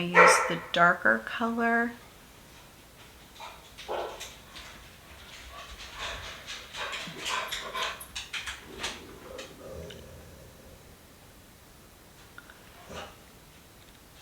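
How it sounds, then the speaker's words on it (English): Dogs bark in a short burst of several rapid barks at the start, fairly loud and nearby, followed by someone talking quietly indoors. "Hold please while the dogs bark."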